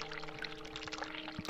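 Water pours steadily and closely in The Cat Lady video game, a continuous splashing stream lasting the whole moment with no voices over it.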